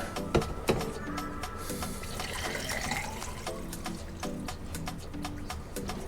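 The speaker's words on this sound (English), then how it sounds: "I'm going to fill that with some water." Water runs steadily into a bathroom sink, a continuous close splashing rush with scattered clicks and knocks throughout and no talk.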